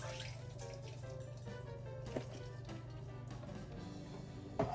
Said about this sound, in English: I'll be definitely adding some water to this.